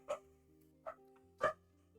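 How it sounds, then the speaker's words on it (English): Three short dog barks, the first and last stronger, separated by brief pauses over a steady low hum. "Sorry, dog's barking."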